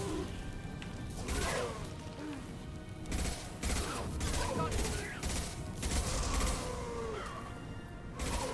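Allied squadmates fire during a tough late-game mission, a continuous volley of shots with heavier bursts recurring every second or so over mechanical clatter, while someone talks.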